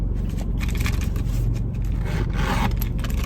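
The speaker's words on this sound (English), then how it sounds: "and it zips up nicely" Zipper on a Louis Vuitton Multi Pochette fabric pouch being closed, a continuous close scraping rasp lasting a few seconds with a brighter burst near the end.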